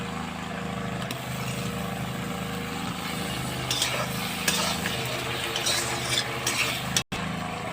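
Spice paste with chopped tomato being sautéed in oil, a steady sizzling hiss with faint stirring scrapes throughout, close and continuous with no talking.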